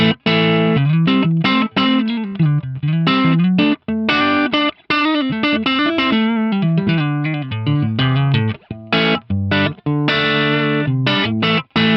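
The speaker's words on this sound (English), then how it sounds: "Sweet little clean to edge a breakup tone right there" Electric guitar played through the neck pickup of a Stratocaster into EV speakers, with a warm, mostly clean tone just starting to break up, melodic runs and chords played alone at full volume.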